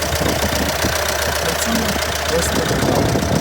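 A 2017 Opel Vivaro's 1.6 dCi diesel engine idles with a steady, low, even hum and a faint mechanical knock, heard close by and continuously.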